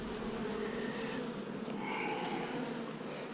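Honey bees swarm loudly around an opened hive in intense heat, a dense, continuous buzzing close by with individual bees whining past, no voices.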